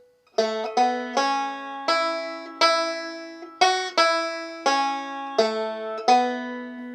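Bright plucked banjo notes of the bluegrass tune "Oh! Susanna" ring out one at a time in an even, unhurried melody, each note decaying before the next.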